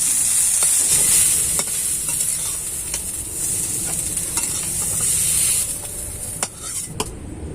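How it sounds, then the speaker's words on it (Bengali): Flowers being stirred and dry-fried in a pan, a steady sizzling hiss with occasional scraping clicks of the spatula, close and moderately loud. "একটু হালকা নেড়ে চেড়ে ভেজে নেব।"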